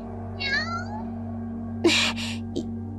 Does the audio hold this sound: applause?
no